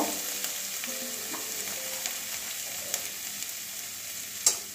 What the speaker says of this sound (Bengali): ধনে গুঁড়ো 1 চামচ, মশলা ভালো করে কষিয়ে নেব